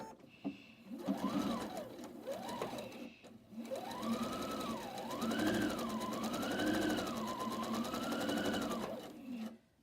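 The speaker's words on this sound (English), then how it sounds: "like this and sew it together" A sewing machine stitches a quarter-inch seam on a quilt block at 2.5 stitch length, its rapid even rattle rising and falling in speed in close, steady bursts with no talk over it.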